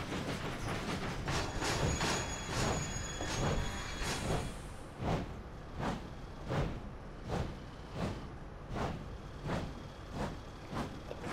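A toy steam train engine runs fast along its track, giving a steady rapid clacking rhythm of evenly spaced beats, quiet and mechanical, with no voices.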